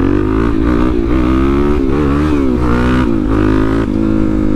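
Motorcycle accelerating hard on a ride, loud and close, engine note climbing through gear changes in a steady continuous roar, no voices.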